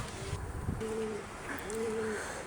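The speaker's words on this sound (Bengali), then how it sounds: "এই নটটা কীভাবে সব ডাকে দেখেন, খুব সুন্দর কবুতর" A male pigeon coos nearby: two soft, low, rolling calls with a brief pause between them, over faint background noise.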